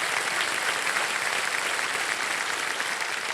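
A television studio audience on the quiz show KBC claps loudly and steadily, a dense, continuous wash of applause with no voices over it.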